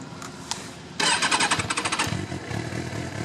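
A 2007 Kawasaki ZZR600 (ZX600J) carbureted motorcycle engine cranks briefly with a little throttle, then catches and fires into a loud, close, pulsing idle that settles into a steady rumble.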